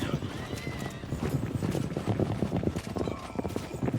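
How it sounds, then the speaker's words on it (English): Cavalry horses in a Citadelum video game battle gallop with rapid, dense clip-clop hoofbeats and an occasional whinny, loud and continuous under a busy battle din. "Our horses are up against the spear wall."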